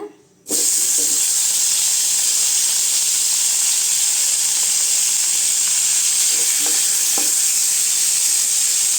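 Tomatoes sauté in oil with salt for a coriander chutney, a loud, steady hiss and sizzle starting abruptly after a brief quiet moment, with a few soft stirring knocks near the end.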